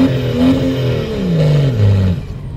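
Turbocharged BMW car engine revving up and down close by, deep throaty rises and falls in pitch over a couple of seconds, loud and alone without talk.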